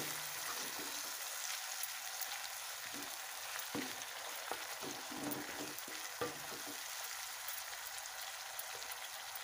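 Coconut paste is stirred into a vegetable malai curry over a low flame, soft bubbling sizzle with irregular light scrapes and taps of a spatula, quiet and close.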